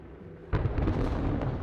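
Storm thunder in the survival game 7 Days To Die: a sudden loud crack and rumbling burst breaking out of a quiet background and rolling on for about a second.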